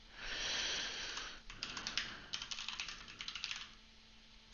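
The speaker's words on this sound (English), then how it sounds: "Literally, you can just type anything you want." Fingers type on a computer keyboard at close range, a rapid irregular run of clicking keystrokes following a brief breathy sniff, with no voices.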